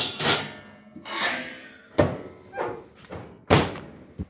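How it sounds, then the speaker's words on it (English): Oven door of a 1950 Wedgewood stove swinging shut again and again, four distinct close thumps and clanks with scraping rub between them, no talking. "So that's how the door closes."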